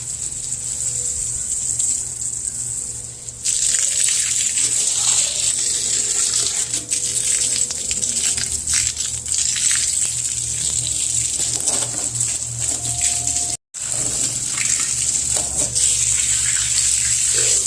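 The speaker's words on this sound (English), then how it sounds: "Watering my plant." Water streams steadily from a hose or can onto potted patio plants, a continuous close hiss and splash that briefly drops out twice before resuming.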